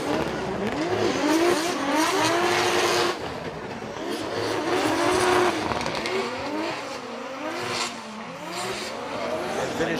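Formula Drift Japan cars drifting in tandem, high-revving engines rising and falling in sweeping pitch bends while tires squeal throughout, loud and close, with a brief dip in intensity partway through.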